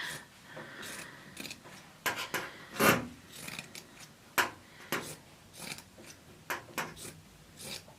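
Sharp scissors cut through fleece fabric in a run of close, crisp snips and rasping slices, irregular strokes separated by brief pauses, with no talking.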